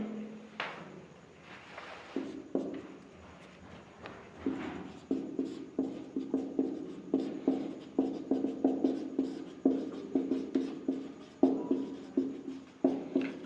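Pen writing chemistry notes on carboxylic acids, close and clear, a rapid series of scratchy strokes in uneven rhythmic bursts with short pauses, no talking.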